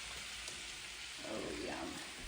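Shrimp dropped into a hot frying pan give a steady, fairly loud sizzle and crackle, which grows a little busier partway through.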